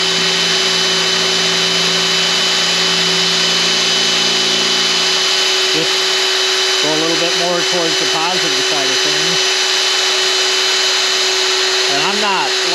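A Drill Doctor grinds a drill bit sharp with a steady high whine that never lets up, while someone talks over it at close range.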